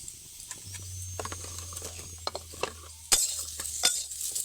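A spatula scrapes and taps against a dry wok as turmeric-coated potatoes are stirred without oil, with intermittent clinks over a low background hum.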